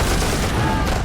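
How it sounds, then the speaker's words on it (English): Heavy battle din from the Vietnam War's Battle of Ia Drang, with dense gunfire and explosions merging into a continuous loud roar with no clear gaps, close and overwhelming. "Bullets cracking, bombs landing, artillery shells exploding, people screaming."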